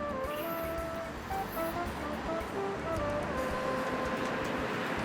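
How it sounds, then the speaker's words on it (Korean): A tram passing along a street in Sarajevo, a steady broad rumble and rushing noise with a few faint high squeals and tones running throughout. "수시로 오고 가는 트램."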